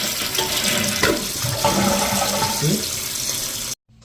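A toilet flushes with a loud rushing gurgle of water, then the tank refills steadily after repairs to the fill valve and flush mechanism, with a brief voice over it before an abrupt stop.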